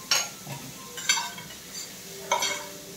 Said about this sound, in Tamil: போட்டு மிக்ஸ் பண்ணுவேன்.